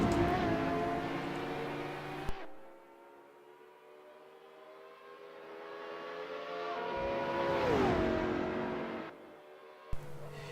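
Two supercars, a McLaren P1 and a LaFerrari, race in Assetto Corsa, engines droning in a steady high whine that fades, then a second car swells and rises in pitch before cutting away sharply.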